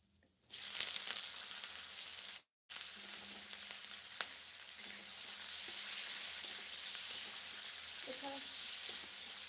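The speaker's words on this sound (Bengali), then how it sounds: "মধ্যে একটুখানি জিরে দিয়ে দিলাম" Cumin seeds hit hot oil in a pan for a pea and potato curry, giving a steady, close, bright sizzle that cuts out briefly, then hisses on evenly, with faint voice traces near the end.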